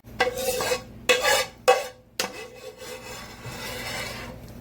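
A spoon mixes gooey mac and cheese, giving four distinct scraping, sticky strokes followed by softer stirring, close by with no talking.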